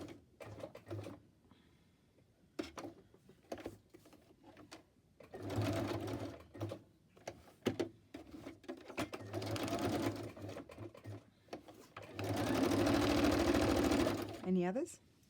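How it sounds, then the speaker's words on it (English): A sewing machine zigzag-stitches across fabric scraps in three or four steady whirring runs of several seconds each, the last the loudest, with a person talking quietly in the gaps between them. "I'm going to zigzag down the centre of that one."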